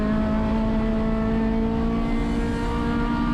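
An Acura RSX race car at Sonoma Raceway accelerates hard out of a corner, its engine note loud, close and steady in pitch with a strong droning tone and no talk over it.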